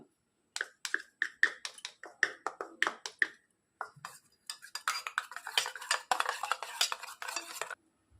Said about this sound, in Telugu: మనం కస్టర్డ్ పౌడర్ తీసుకున్నాం కదా, అది పాలల్లో వేసి, పచ్చిపాలు ఇవి అందులో వేసి మిక్స్ చేసుకోవాలి మొత్తం